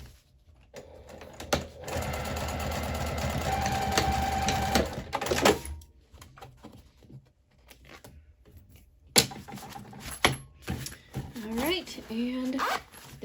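A sewing machine runs a back stitch across the zipper in a bag's lining, a steady mechanical whirr of several seconds, followed by quieter handling clicks and a short stretch of talk near the end.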